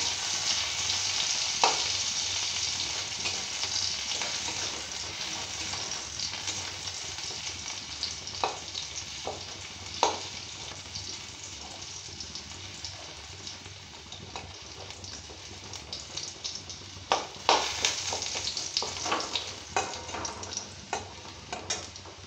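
Prawns and water spinach frying in oil in a pan, a continuous close sizzle punctuated by scattered spatula scrapes and sharp crackling pops, busier toward the end, with no talking.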